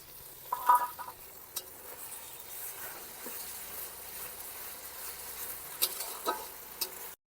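Ginger garlic paste sautés in a pan for a rooftop meal, a faint, continuous sizzle broken by a few sharper scrapes and taps from stirring.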